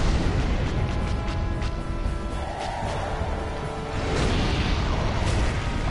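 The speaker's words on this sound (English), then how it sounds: "Wow, she's exploding a lot." Enemy explosions in Dark Souls Remastered: dense, rumbling booms and bursts layered into a continuous loud roar with whooshing texture, no voices.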